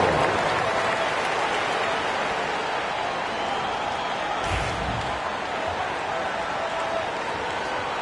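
A dense, constant wash of crowd cheering and applause in an NBA 2K25 basketball game arena at a Lakers home game for the Laker Girls dance team, loud and unbroken throughout, with a brief thump midway.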